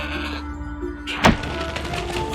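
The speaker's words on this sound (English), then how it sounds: "What an amazing goat!" A goat in the game Trine 4 gives a single short bleat at close range, set against a steady ambient game background.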